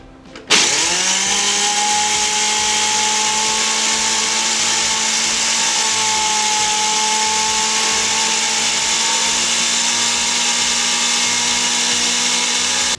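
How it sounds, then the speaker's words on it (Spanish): An electric blender whirs at high speed through a cheesecake mixture for a cheese pie, starting abruptly and running as a loud, constant motor whine with a slightly pulsing low churn, heard close up with no talking. "Ahí queda, vamos a licuar."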